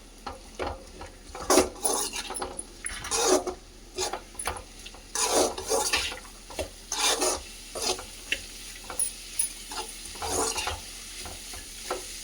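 Green chillies and other vegetables for chicken fried rice are stirred in a pan. A utensil makes rhythmic scraping, rasping strokes over a low sizzle, repeated steadily and close up, with no talk.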